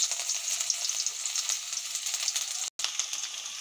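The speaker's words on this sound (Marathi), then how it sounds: "तेल गरम झालं, कांदा घालू।" Onion frying in hot oil, a steady bright sizzle and crackle close up, continuous with a brief break, no talk.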